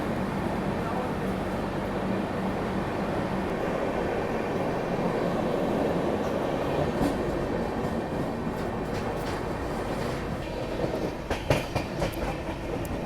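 A Patna–New Delhi special passenger train runs with a steady rumble and rhythmic wheel clatter on the rails, growing rougher with sharp clacks near the end, heard from the carriage with someone talking over it.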